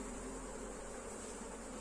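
Africanized honey bees buzz at an open hive as frames are worked, giving a dense, constant hum of many insects, close and unbroken, with no voices.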